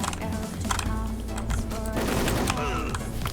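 Rapid game gunfire rattles in a continuous stream through a shooting video game, with rhythmic bursts layered over steady background game noise and music.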